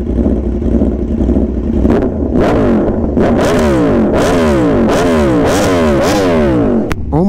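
Aprilia RSV4 1100 Factory superbike with a V4 engine revving hard up close, loud repeated rising and falling blips after an idle, each rev climbing sharply and dropping back in quick succession.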